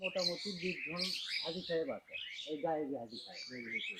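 Several birds chirp and call in quick high bursts while people talk close by, and the voices partly mask the birdsong throughout.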